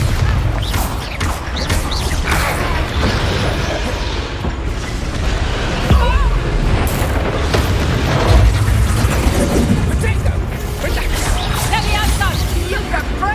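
A Bombarda spell explosion in Hogwarts Legacy lands as booming blasts and crashes in a loud, busy game mix, with voices speaking over the action.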